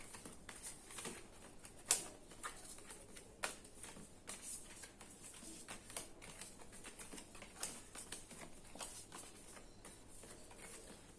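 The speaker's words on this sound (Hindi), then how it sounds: "ये 3 कार्ड हैं जी, और अब मैं इनको कर देती हूँ मिक्सअप।" A hand mixes three playing cards for a tarot-style pile reading, giving faint, close, irregular soft taps and slides with a few sharper clicks. No voices are heard.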